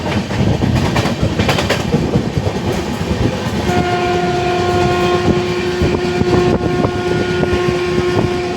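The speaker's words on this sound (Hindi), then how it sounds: "हमारी ट्रेन इस वक्त कानपुर शहर के अंदर से गुजर रही है" An Indian Railways train runs through Kanpur on the bypass line, with a steady loud rolling rumble and rattle, then a long sustained horn blast partway through.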